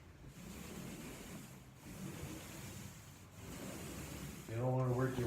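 Paint roller spreading paint on a bedroom wall, a soft, faint rubbing swish repeating in slow strokes, with someone speaking briefly near the end.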